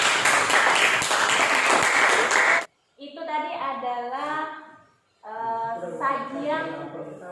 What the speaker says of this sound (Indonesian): Aplaus untuk kelompok Giberlin